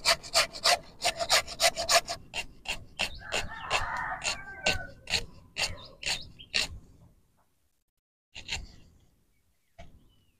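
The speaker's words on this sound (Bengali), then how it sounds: "এবার আলুটাকে ঘষে নিচ্ছি" A peeled potato rubbed by hand against a kitchen grater in rapid rhythmic strokes, a close raspy scraping series that stops, followed by a few brief rasps after a pause.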